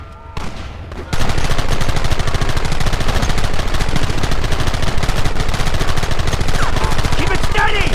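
Heavy, continuous gunfire in Red Dead Redemption, with several guns firing at once in a loud barrage that begins about a second in and runs without a break to the end.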